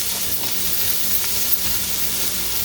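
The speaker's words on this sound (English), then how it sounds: "we're gonna start with the leeks and onions. Oh yeah, already starting to sizzle." Leeks and onions frying in a pan give a steady, close bright sizzle and hiss, constant throughout with faint stirring, and nobody speaks.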